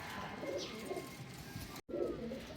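Domestic racing pigeons coo in a loft, low rolling calls repeating close by in a steady murmur with a faint brief chirp, interrupted by one short cut of silence before the cooing resumes.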